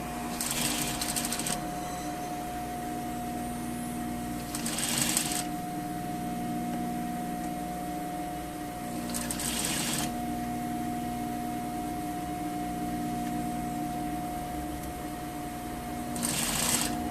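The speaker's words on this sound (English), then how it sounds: "Sewing all the way down to the" A sewing machine fitted with a zipper foot stitches a seam in several short, loud bursts of rapid mechanical whirring, separated by pauses filled with a steady electrical hum.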